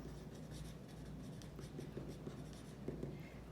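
Pen or marker writing out an inequality during a maths lesson, a faint, steady scratching of strokes over a low background hum, with no talking.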